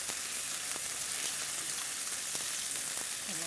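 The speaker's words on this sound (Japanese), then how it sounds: "そしたらこんな感じで炒めましたら、ここに、お水を入れます。" Water poured into a hot frying pan with stir-fried aromatics, making a steady close sizzle and hiss that runs evenly throughout without talk.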